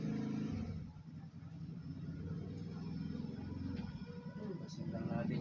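Motor vehicle engine running outside, a low rumbling drone that swells and fades like passing traffic, heard faintly in the background under ongoing speech.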